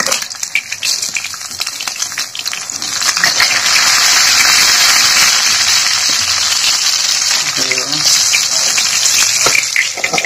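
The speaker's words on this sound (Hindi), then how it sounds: "फ्राई करना भी जारी है" Fish frying in a pan gives off a steady, close sizzle that grows louder partway through, with light clinks of stirring or handling.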